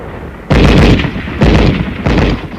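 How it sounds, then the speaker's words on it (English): Machine gun fire in a wartime combat film set in deep snow and extreme cold: three loud, heavy bursts of rapid shots, each lasting most of a second and separated by brief pauses. "Our machine gun covers the advance."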